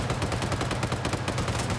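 M60 machine gun fire in a military PvP game, a dense, sustained burst of rapid shots, loud and steady throughout without any talk over it.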